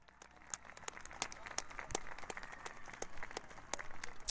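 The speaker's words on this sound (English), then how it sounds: "Round of applause." A small group's round of applause, a faint, steady patter of scattered claps.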